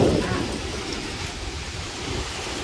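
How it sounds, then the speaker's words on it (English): Hurricane Ian's wind gusts roar outdoors in North Port, a broad, steady rushing noise that swells at the start and stays loud throughout. "All right, so winds have once again picked up."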